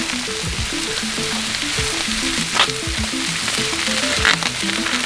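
Already-cooked noodles sizzle and fry steadily on a hot Blackstone griddle top, a dense continuous crackle with faint scraping touches as they are moved around during a stir-fry.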